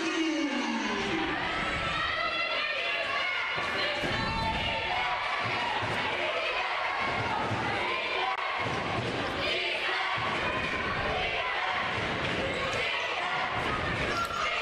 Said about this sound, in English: Crowd starting to come to life here at Flagler Gym.